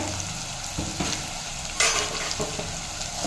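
Vegetables with green chillies sizzle steadily in a hot pan while a spatula stirs and scrapes them now and then, close and fairly loud.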